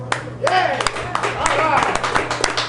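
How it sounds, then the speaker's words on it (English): A live studio audience at a Pittsburgh sports talk show gives a round of applause, steady clapping mixed with cheers under a voice talking over it. "How about a round of applause for Campides and Nick?"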